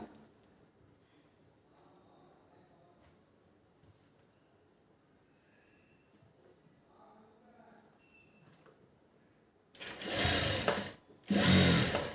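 Sewing machine stitching the sleeve seam of a blouse with a long stitch, two loud close bursts of whirring near the end after a long stretch of quiet background.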